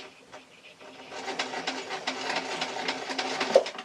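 Sewing machine stitching a fabric tablet case, a steady rapid mechanical whir with fine repeating ticks that start quietly and build to a continuous run, close and alone.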